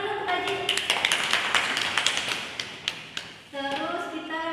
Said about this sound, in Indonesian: Tepuk tangan dulu untuk Haji